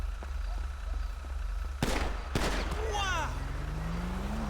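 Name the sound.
gunshots in a video game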